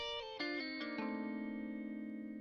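Two crunchy, overdriven electric guitar lines play a short harmonized phrase of stepped notes, then let the final chord ring out.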